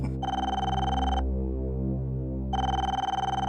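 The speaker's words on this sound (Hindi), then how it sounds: "फोन बज रहा।" A telephone bell rings in a tense crime-drama scene, two loud electronic ring bursts separated by a pause of humming background, close and clear with no talk over it.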